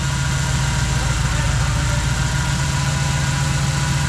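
Engine of a 1966 Ford Galaxie with EFI and a six-speed, idling with a steady continuous rumble and hum, loud and close, with no pauses or talk.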